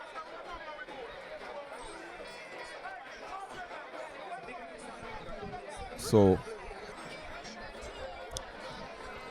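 A bumper crowd murmurs and chatters inside a football clubhouse during a North Coast derby between Mount Pleasant and MoBay United. A steady, moderate babble runs throughout, under a commentator's voice, with one brief louder sound partway through.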